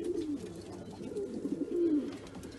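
Young breeding pigeons of a tumbler-type breed cooing softly in a loft, a low repeated warbling coo, fairly close but quiet, with no talking over it.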